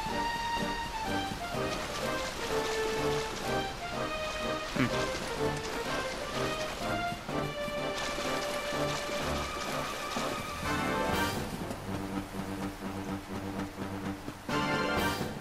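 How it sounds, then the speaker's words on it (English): Rain falls steadily in the Dragon Quest XI video game, a constant patter of drops under a layered orchestral music score that continues throughout. "Now it's raining."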